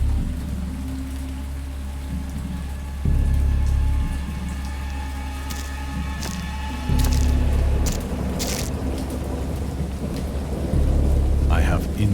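A thunderstorm with steady rain and several deep rumbles of thunder rolling in and out, loud and near, with no voices.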